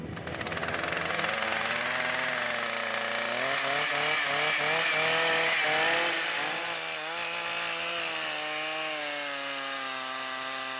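A motor-driven saw, likely a chainsaw, cuts through thick sea ice on a fishing spot in the Aleutian Islands, Alaska; a loud, steady engine whine runs continuously, its pitch rising and falling as the blade works, with no talk.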